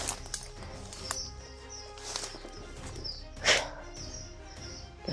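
Birds call and chirp outdoors in a quiet rural area, with short scattered calls and a brighter burst near the middle over a soft background hiss.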